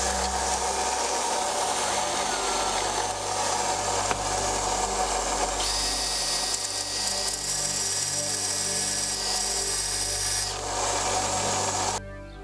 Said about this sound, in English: So let me take these out and cut them to length and thread them.